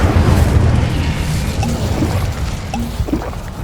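Incendio fire spell blast in the game Hogwarts Legacy, a loud rumbling, roaring burst that lingers and slowly fades, with small crackles and pops scattered through it.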